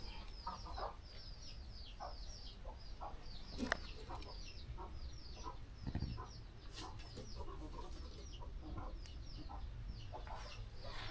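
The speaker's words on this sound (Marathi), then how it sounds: "तर ही कोंबडी आपल्या अंड्यांवरती बसलेली आहे." A broody hen sits on her eggs on an organic farm, giving soft, scattered clucks and low murmurs with a few sharper calls, steady farmyard background noise, and no talking.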